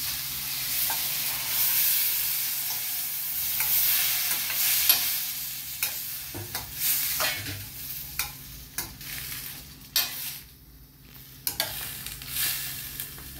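Boiled ghugni peas being stirred in a frying pan, with a steady close sizzle under repeated scraping and tapping strokes of the spoon against the pan, continuing without speech.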